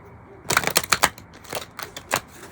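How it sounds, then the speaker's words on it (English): A tarot card deck of slightly smaller format is riffle shuffled by hand, giving a soft, close series of quick papery flutters and snaps over about two seconds. "I can shuffle it fairly easily in a normal riffle shuffle"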